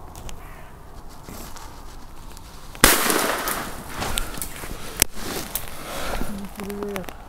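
A single sharp, loud shotgun bang firing a magnum shell from a 70 mm chamber rings out outdoors, followed by a lingering rumble and scattered rustling, with faint voices murmuring around it.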